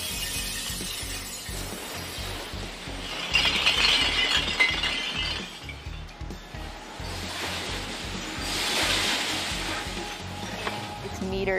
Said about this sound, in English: workers scoop the bottles up with this loader and dump them into a crushing machine